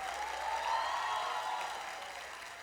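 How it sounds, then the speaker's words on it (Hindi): A short burst of audience applause at a stand-up comedy fan meet, faint and distant, rising briefly and then tapering off. "एक बारी टिस्का मैम के लिए जोर से ताली बजाएंगे हम"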